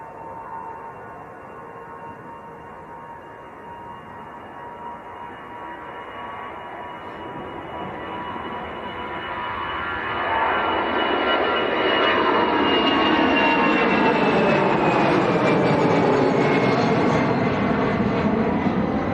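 An EasyJet airliner bound for Barcelona roars at Leeds Bradford Airport, its jet engines building from a steady distant whine into a loud, broad rumble as it passes close, with shifting tones sweeping across the noise.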